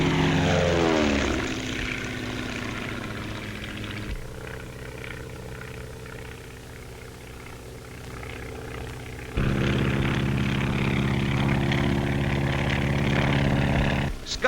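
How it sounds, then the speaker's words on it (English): Propeller airplanes skywriting overhead, their engines a steady droning roar that dips in the middle and then swells louder and nearer toward the end. "To stand the terrific strain of turning and twisting, the planes have to be strong, yet capable of a cruising speed of over 120 miles an hour."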